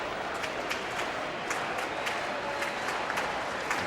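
A baseball crowd stands and applauds Craig Biggio's first at bat of the day, a dense, steady wash of clapping and cheering from a large stadium audience that holds at full volume throughout.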